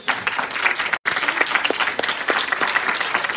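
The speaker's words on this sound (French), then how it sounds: "je vous demande un tonnerre d'applaudissements pour les zombies du jour" A live audience gives thunderous applause to people in zombie costumes, dense clapping with a brief drop near the one-second mark, then continuing strongly to the end.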